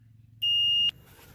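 A single loud, piercing electronic tone sounds for about half a second from an RV holding tank alarm during a black and gray tank flush, over a low steady hum.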